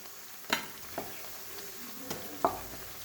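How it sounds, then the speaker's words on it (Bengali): Onion pakoras (piyaji) frying in oil give a quiet, steady background sizzle, broken by a few sharp clinks and scrapes of a utensil against the pan. "এই যে আমার এখানে পকোড়াগুলো প্রায় একদম লাল লাল করে ভেজে নিয়েছি হয়ে গেছে মুচমুচো মুচমুচো পেঁয়াজি"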